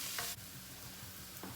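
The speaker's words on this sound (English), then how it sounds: "Now I'm just going to add in the beet leaves and stems" Beet leaves and stems cooking in oil in a frying pan, giving a soft, even sizzle with a couple of brief stirring scrapes, faint and continuous, with no talking.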